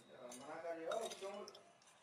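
A ladle stirs grated raw mango pickle with chili powder and salt in a metal vessel, giving repeated light clinks and scrapes at close range, with a voice faintly in the background.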